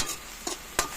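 Sardines go into sautéing bottle gourd (opo) in a pan, giving a soft sizzle with two quick scraping stirs, close and fairly quiet.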